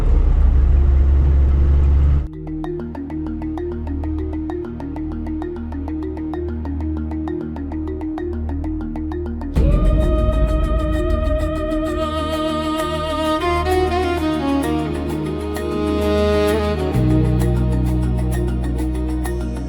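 A heavy 4x4 towing a camper drives along a bush cutline in Botswana's Mabuasehube wild lion country, its engine giving a steady close rumble and drone with shifts in pitch as it moves, and no talk over it.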